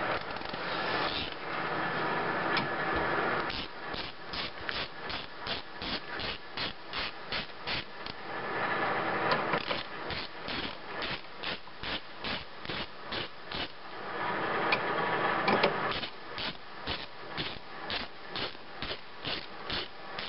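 A ratchet loosens 12mm engine mount bolts on the oil pan of a GM 2.2L engine, making long runs of steady, evenly spaced clicks at close range, with a few denser grinding stretches in between.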